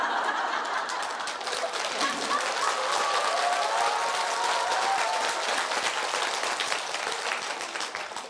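Audience applause at a Buddhist Diamond Sutra lecture at Woljeongsa temple, a large crowd clapping steadily and loudly throughout, with some scattered laughter mixed in.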